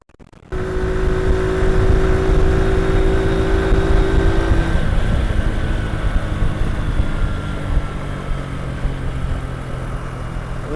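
A 50cc semi-automatic motorbike engine starts up sharply and accelerates in second gear, a loud, close, steady drone that rises in pitch before easing into continuous riding noise.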